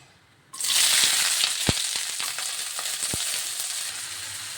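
Onion and green chillies land in hot oil for chicken curry with a sudden loud sizzle, which keeps up as a strong, steady hiss broken by a few sharp clicks.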